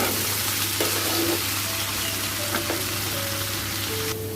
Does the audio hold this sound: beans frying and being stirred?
yes